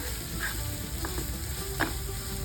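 A continuous, close sizzle of a green pea mixture sautéing in a hot pan, with a couple of soft scrapes from stirring.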